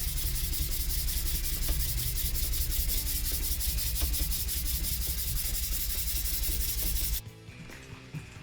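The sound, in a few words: sanding a gyuto knife blade with 280 grit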